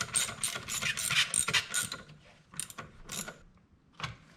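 Bolts are tightened with a ratchet during an IAG AOS air-oil separator install on a 2008-2014 Subaru WRX, with quick bursts of close metallic clicking separated by short pauses.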